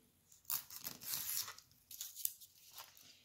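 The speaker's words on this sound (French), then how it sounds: "On va couper des morceaux." Scrap pieces cut up for the support beams of a medieval house model, giving close, quiet tearing and snipping strokes in short bursts with pauses, and no voices.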